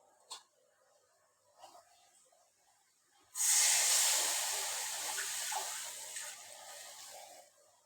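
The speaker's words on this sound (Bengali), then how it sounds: "এবার জল ঢেলে দেবো।" Water poured into a hot pan while cooking an egg kasha curry erupts into a loud, sustained sizzling hiss after a few faint clicks, then slowly settles while still steaming.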